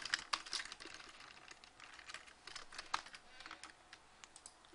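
Someone types on a worn computer keyboard that has started acting oddly, producing quick, irregular clicks and clacks at a fairly faint level, close by, with no speech.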